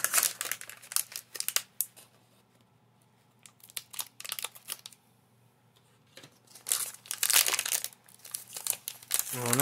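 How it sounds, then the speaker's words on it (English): Scissors snip and crinkle through plastic figurine packaging in short bursts of close crackling and cutting, with quiet pauses between. "So, scissors it is."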